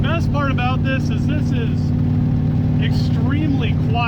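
A V8 car engine running on a lawn mower carburetor drives along with a steady, fairly subdued low drone, while people talk loudly over it throughout.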